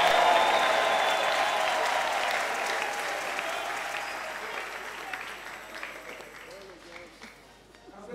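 Church congregation at a Sunday deliverance prayer service bursting into loud, sustained applause and cheering, the clapping strongest at the start and gradually thinning, with voices mixed into the crowd noise.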